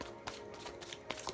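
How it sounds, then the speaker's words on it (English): Tarot cards being shuffled by hand, a few soft papery riffles and slaps close by at low volume, alone without talk. "as I'm shuffling, because it will take me a minute"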